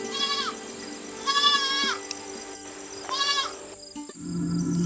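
Several loud goat bleats, close by and repeated, from a goat that has been on medicine and is unwell, in a rural village setting; an insect-like whine runs underneath, with a low rumble at the end.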